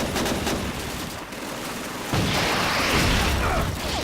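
Dense bursts of rapid gunfire crackle and boom continuously in Call of Duty 2, getting louder midway with heavier blasts and a steady rattle of shots.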